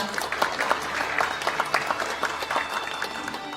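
An audience at a political party's economic advisory team launch applauds a speaker onto the stage, giving steady, close, crackling clapping that keeps a lively, even rhythm throughout.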